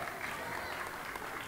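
Audience applause and crowd noise at a rap battle form a dense, steady wash, with a voice speaking over it.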